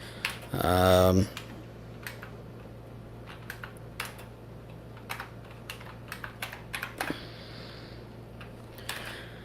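Typing on an LG V60 phone's on-screen keyboard gives a scatter of faint, irregular tiny taps and clicks after a brief louder burst at the start, against a low steady hum.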